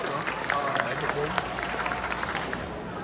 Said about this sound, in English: Please give another big round of applause to Supervisor Andrew Doe.